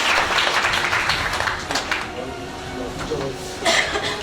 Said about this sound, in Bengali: একটা হাততালি দাও